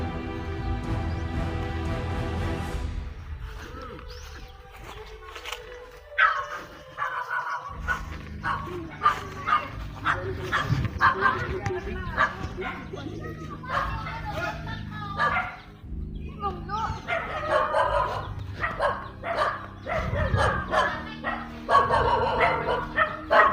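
Many dogs bark around a house in the Philippines, loud overlapping barks and yips in bursts with some whimpering, while people talk nearby.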